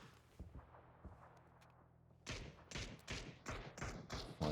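Gunfire in PUBG during an esports scrim near a rooftop, with a series of sharp shots and thuds starting mid-clip and repeating irregularly at moderate loudness, after a quieter stretch of low ambience.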